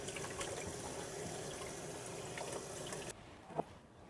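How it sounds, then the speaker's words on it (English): Running water from a kitchen sink tap rinses curing mix off a salmon fillet, a steady broadband splash that stops abruptly near the end, followed by a single small clunk. "I'm going to take this over to the sink, and I'm going to rinse off as much of the cure as I possibly can."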